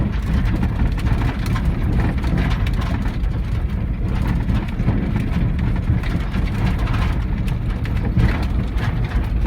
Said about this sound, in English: this is a manual transmission truck.